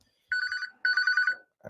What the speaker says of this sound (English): my phone's ringing there.